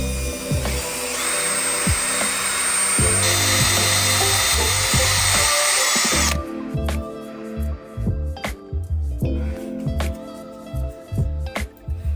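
A power drill bores into wood near a door frame, whining loudly at steady speed for several seconds, then switching to short on-off bursts and clicks as the bit is worked, with no talking.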